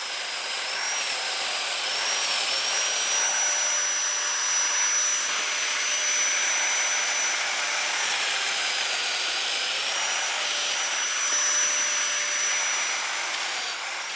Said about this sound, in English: once you've done the domino cutting with the machine